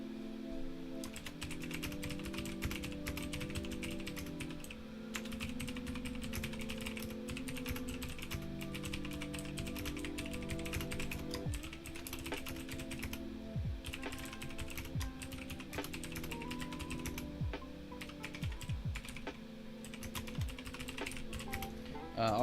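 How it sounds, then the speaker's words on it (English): Fast, loud clacking of a computer keyboard runs continuously during a live market charting session, with dense irregular keystrokes over a low steady hum of background music. "Sorry, and I'm typing kind of loud."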